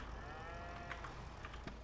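Cattle in a farming video game low and moo close by in a steady rural ambience, a few drawn-out calls overlapping with soft background hum and occasional clicks.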